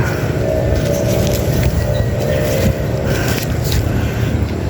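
A small lawn mower engine runs loud and steady while cutting a little backyard patch, a continuous close drone with wind-like noise over it.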